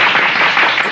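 A short burst of dense, loud applause from a crowd clapping for the memes community, filling the whole brief moment with no pause.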